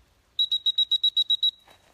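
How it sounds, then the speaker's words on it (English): An electronic dog training whistle emits nine rapid, evenly spaced high-pitched beeps close by during off-lead heel work, followed by a faint rustle. "she hears the beep, beep, beep, beep, beep"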